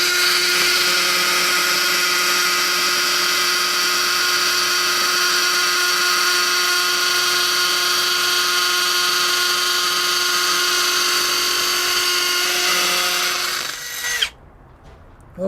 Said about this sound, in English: Okay, so I'm at hammer drill, speed number 2